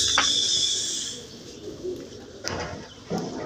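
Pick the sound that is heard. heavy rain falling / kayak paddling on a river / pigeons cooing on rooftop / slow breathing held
pigeons cooing on rooftop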